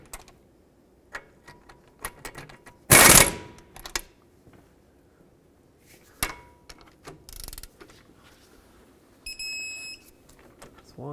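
Brake caliper bracket bolts being snugged on a 2003-2012 Nissan Murano front brake, giving scattered sharp metallic clicks and ticks with a louder burst of ratcheting, then quieter taps and a short high beeping tone near the end.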